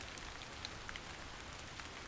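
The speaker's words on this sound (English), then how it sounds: "This must be Earth's rain." Rain falls in a steady, soft patter across a ruined colossal city in the Stellar Blade video game, a faint, even wash of drops with no voices.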